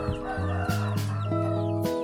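Chickens raised for meat cluck and call in close, tonal bursts that overlap in a busy, steady run of squawks.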